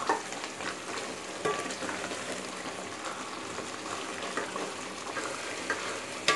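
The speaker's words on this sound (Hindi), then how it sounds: "अब तेज़ आंच पे इसकी भुनाई कर रही हूँ।" Chicken frying over high heat in a pan, a dense continuous sizzle with frequent stirring scrapes and knocks, close and fairly loud, with no talk.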